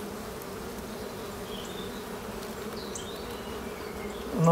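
Honeybees buzzing in an open hive at an apiary, a steady, fairly quiet drone with a few individual bees passing close, and a brief louder knock at the very end.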